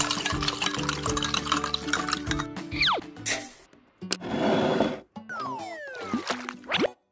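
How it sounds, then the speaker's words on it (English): In a Roblox video game, water is poured for a salt-water foot soak: a rushing splash of about a second that follows bouncy music and cartoon whistle-like sweeps, with more playful effects after it. "Mommy Long Legs soak her feet in salt water to disinfect?"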